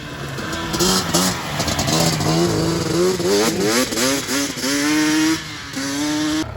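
A Yamaha Banshee two-stroke ATV engine revs loud and close, its rising and falling pitch climbing through repeated throttle blips with a raspy, buzzing tone that never drops to idle.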